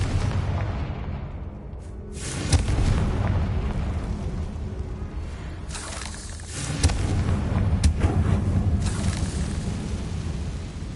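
Confringo blasting spell exploding in Hogwarts Legacy, with booming bursts rumbling loudly through dense game noise, strongest blasts around the middle and later.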